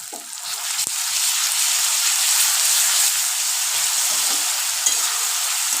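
Ginger garlic paste sizzling and frying in a hot pan, a steady bright crackle and hiss with faint stirring, close and continuous, no talk.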